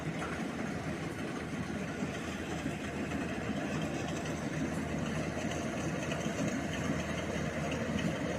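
A rice harvesting machine's engine runs steadily in a paddy field, a continuous loud low rumble with no pauses, no voices.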